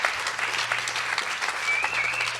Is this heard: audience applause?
yes